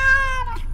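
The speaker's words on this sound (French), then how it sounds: "un chat, celui des maîtres de maison" A single loud, close cat meow, a drawn-out tonal cry that fades within a second, alone without speech.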